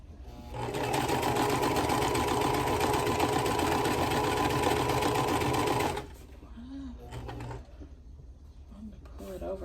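A sewing machine stitches a quilt block in one steady, loud run of about five seconds, then stops, followed by quieter handling noises and a brief voice.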